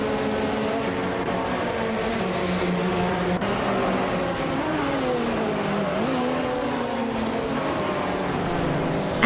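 Race cars drive around a track in a racing video game, producing a steady, loud, layered engine drone with pitch sweeps as cars shift and pass.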